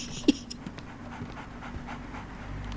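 Dog panting in the Sherlock Holmes: The Awakened video game, a steady soft breathing rhythm under game ambience with one brief louder sound near the start.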